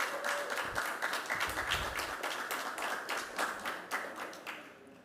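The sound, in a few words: round of applause from audience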